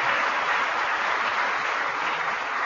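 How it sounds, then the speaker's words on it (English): Steady audience applause at an Agriculture Day event, a dense sustained patter of many hands clapping throughout, fairly loud and without talk over it. "How about another round of applause for Spencer Flood for doing a great job"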